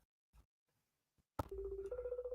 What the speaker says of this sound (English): Come on, answer your phone.